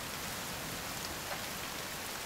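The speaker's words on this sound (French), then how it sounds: "Et il pleut" Steady rain pours in the survival video game The Forest, a dense, even hiss of falling water with no breaks or distinct drops, moderately loud and continuous throughout, no talking.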